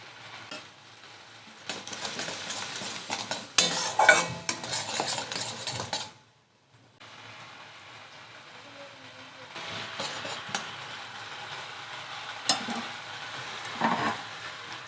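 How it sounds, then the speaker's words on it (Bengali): Spiced curry base for a thin tangra fish curry with potato and eggplant, sautéed and stirred in a pan with a splash of water: loud sizzling and metal utensil scraping, a brief silent gap midway, then quieter frying resumes. "আবার একটু জল দিয়ে ভালো করে কষিয়ে নেব"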